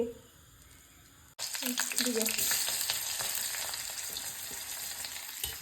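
Food hisses and spits in a hot wok, breaking into a loud, steady sizzle after a brief quiet start with a faint voice, then crackling on evenly close by.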